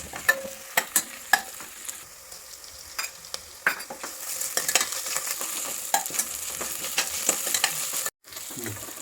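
Whole spices such as caraway and cloves frying in hot oil in a pan for coconut-milk chicken biryani, a steady sizzle with scattered sharp crackles and utensil scrapes, growing busier midway, with a brief dropout near the end.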